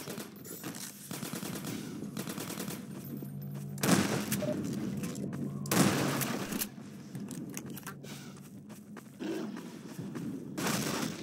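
Gunfire in the video game Half-Life 2: Episode Two, bursts of rapid shots with a couple of sharper, louder blasts standing out over a continuous background of game noise.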